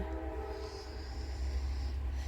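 Heavy low rumble of a train passing nearby, with a faint tonal whine of horn or wheels fading in and out above it.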